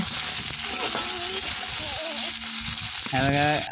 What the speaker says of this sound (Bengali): এবারে একটা আলু কেটে দিয়ে দেবো, ভেজে নেব।